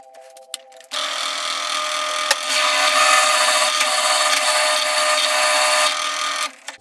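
A power tool drills a hole through metal while repairing a broken fishing rod handle: a loud, steady high whine starts abruptly, holds for about five seconds with slight pitch wobble, then cuts off.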